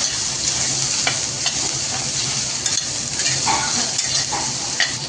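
Okra goes into a hot pan of oil with fried spice powder for a tiffin-style bhindi dish, giving a steady close sizzle broken by light scraping as it is stirred, with no talking.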